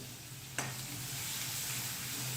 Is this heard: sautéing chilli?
yes